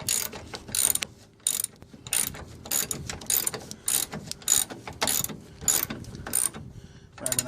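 A ratchet wrench tightens the rear bolts on a nerf bar on a 1999 Toyota Tacoma, clicking in quick repeated bursts separated by short pauses, close and clear with no talk.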